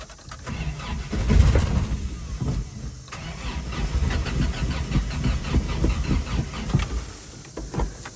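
A 1984 Toyota truck engine cranks and catches, firing roughly in uneven bursts without settling into a steady idle, loud and close throughout.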